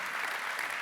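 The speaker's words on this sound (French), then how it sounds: "On peut l'applaudir et les accueillir" Audience applause at a regional business innovation awards evening, a short burst of steady, even clapping from a crowd at moderate distance, with no voices over it.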